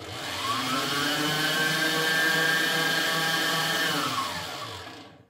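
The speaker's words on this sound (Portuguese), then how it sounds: "A gente ajuda a batedeira pra não bater muito, então a gente ajuda ela." An electric hand mixer whirs steadily through chocolate coffee sponge cake batter, its motor whine holding one pitch, rising at the start and trailing off as it stops, close and loud with no talk.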